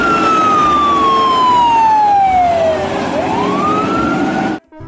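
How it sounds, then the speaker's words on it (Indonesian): A toy fire engine wails with a loud electronic siren, its tone sweeping down and then back up, close to the microphone before cutting off abruptly at the end. "Ini ada pemadam kebakaran."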